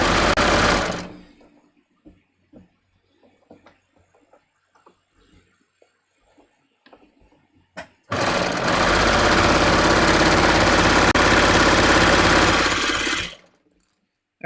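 A sewing machine runs steadily for about five seconds, stitching the armhole of a raglan sleeve top. Quiet handling sounds come first, and the motor hum is loud and close with no talking.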